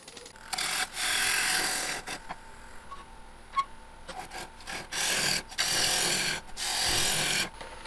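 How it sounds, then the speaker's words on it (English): A woodturning tool cuts wet green magnolia wood on a lathe, with bursts of close, steady shearing and rubbing lasting a second or two, separated by short quieter gaps. "when you're cutting wet green wood, it comes off in beautiful shears"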